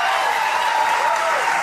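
Steady, dense applause from a studio audience on a German TV entertainment show fills the whole stretch at an even, loud level, with a faint voice under it.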